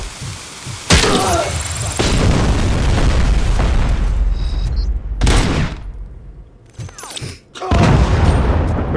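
Repeated deep booms of grenade launcher blasts in the Robocop Rogue City video game, several heavy explosions spaced a few seconds apart amid gunfire, with a voice talking between them.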